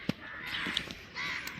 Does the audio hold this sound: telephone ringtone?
no